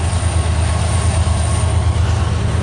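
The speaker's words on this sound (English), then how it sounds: "Alright guys, here's train number 8." CN 385 southbound freight train rolling past in Port Huron, Michigan, a loud, steady low rumble of wheels and cars with a constant broadband roar and a faint high squeal, heard without talk.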